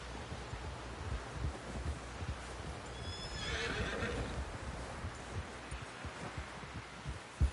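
A horse gives a clear, drawn-out whinny partway through, close by, over a steady background of soft hoof thuds and low rumble.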